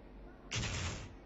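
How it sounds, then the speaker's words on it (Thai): A bomb explodes in the shooter game Special Force during a Korea versus Japan world championship match, a single loud burst cutting in midway and trailing off into a rumble. "โอ้โหเสียงระเบิดดังนะครับผม"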